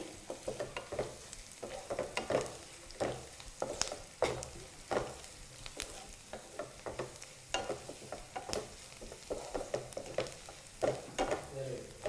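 Onions frying with turmeric in a pan, stirred steadily, with a continuous sizzle under frequent spatula scrapes and taps, close, with a faint voice in places.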